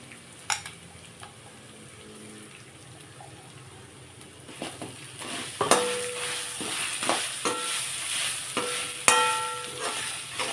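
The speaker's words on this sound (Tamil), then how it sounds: "இப்போ இந்த ஸ்டேஜில் நம்ம தேங்காய் சும்மா ஒரு போட்டு ஒரு பெரட்டு பெரட்டினா போகிறோம் ரொம்ப வறுக்க வேண்டாம் தேங்காயை" Grated coconut for a black urad dal rice dish is stirred and lightly fried in a pan. Quiet at first with a few clinks, it turns into louder spatula scraping and sizzling with sharp metallic knocks in the second half.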